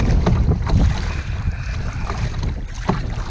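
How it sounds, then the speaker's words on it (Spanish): Water splashing and slapping against the V-shaped bow and hull of a moving boat, a steady rushing wash with irregular louder splashes, close and loud with wind noise over the microphone. "Porque el agua salpica contra el fondo en B o el perfil en B que tiene"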